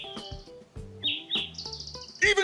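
Birds sing outdoors in a quiet setting, a close mix of clear whistled notes, trills and sharp chirps following one another without pause.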